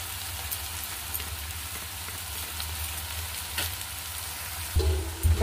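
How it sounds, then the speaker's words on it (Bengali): Vegetable manchurian stir-frying in a pan after soy sauce is added, a continuous close sizzle with the scrape of stirring and a louder clatter near the end. "সয়া সসটা দিয়ে দেবো, দিয়ে আবার খানিকটা আমি নেড়ে নেবো।"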